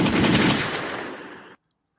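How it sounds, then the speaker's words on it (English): Recorded machine-gun fire plays back as a dense, rapid burst of shots lasting about a second and a half, loud and sustained, then cutting off abruptly into silence. "Could you hear them gunshots?"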